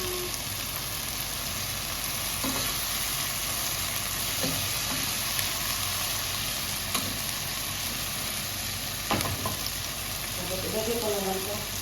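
Bean sprouts and carrots sauté in a pan with a constant close sizzle, broken by occasional sharp taps and scrapes of a spatula as the vegetables are stirred. A faint voice may come in near the end.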